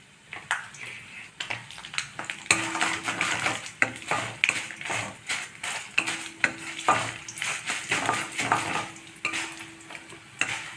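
Urad dal fries in a pan with mustard seeds and dried chillies, the grains sizzling and crackling close up while a spoon stirs and scrapes in quick, uneven strokes.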